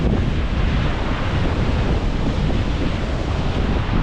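Heavy surf crashes on a rough, wild sea at Barcelona under a red-flag warning, a continuous loud roar of breaking waves mixed with gusty wind buffeting the microphone, no voices.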